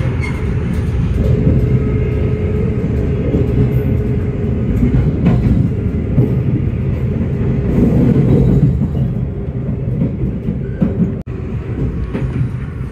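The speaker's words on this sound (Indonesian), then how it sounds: "Wih, kita papasan dengan kereta api Airlangga nih" From on board an Indonesian executive express, the Airlangga passenger train rushes past in a sustained loud rumble of wheels and rails, ending with a brief sharp knock.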